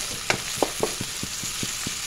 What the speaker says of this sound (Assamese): হালধি গুড়ি দিলোঁ এচামুচ সেইখিনিও অলপ লৰাই দিছোঁ এনেদৰে